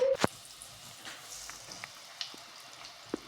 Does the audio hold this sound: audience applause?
no